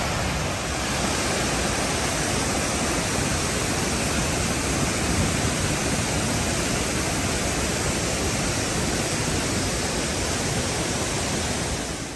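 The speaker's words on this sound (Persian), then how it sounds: "با ارتفاع 51 متر بزرگترین آبشار استان مازندرانه" Shahandasht waterfall in Mazandaran, Iran, a 51-metre fall, roars as a steady, dense wash of falling water, loud and close, unchanging throughout with no voices.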